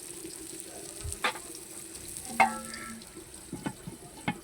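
Brinjal slices fry in a pan, giving a soft, steady sizzle beneath a few sharp clinks and scrapes of a utensil against the pan.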